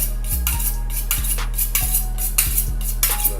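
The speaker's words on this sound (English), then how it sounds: "A little sharpening with my knife." A kitchen knife being sharpened while cooking: a steady run of bright metallic scraping strokes, evenly spaced and close, with a low hum beneath and no one talking.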